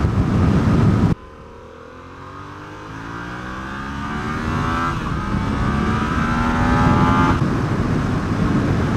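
A Yamaha XSR700 motorcycle pulling a sixth-gear roll-on, the engine note climbing steadily in pitch and loudness over several seconds under strong wind noise, after a brief louder rushing burst at the start.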